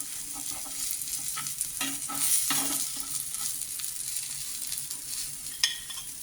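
Rava-coated vegetables sizzle steadily in hot oil for a Goan Saraswat kampa fry, with soft scraping and clinks as a slotted spoon stirs and lifts the pieces out, close and continuous.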